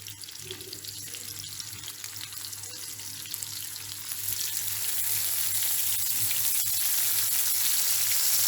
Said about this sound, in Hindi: ऑयल हमारा गर्म हो चुका है, अभी हम इसमें टिक्के डाल लेंगे